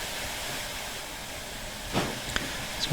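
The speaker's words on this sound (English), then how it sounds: "We can see the cylinder cocks, the steam coming out the cylinder cocks there." Steam hisses continuously from the cylinder cocks of a steam locomotive in the train game Derail Valley, a broad airy rush with a few sharper puffs and clanks near the end.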